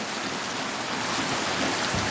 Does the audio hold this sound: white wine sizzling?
no